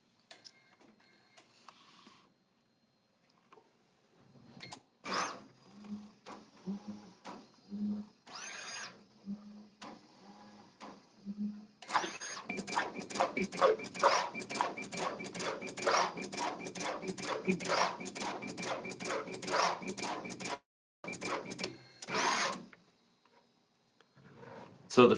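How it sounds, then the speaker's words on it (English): SureShot robot running with its laser scanner passing over a fixture: faint motor whirs and clicks, then a long stretch of rapid rhythmic mechanical ticking and buzzing, moderately close. "the first thing you see happen is that the laser scanner goes over two fiducials on the fixture"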